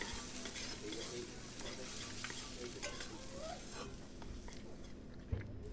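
Spices with turmeric and Kashmiri chilli powder being stirred in a pan make a dense, close sizzle with soft scraping strokes and a brief knock near the end.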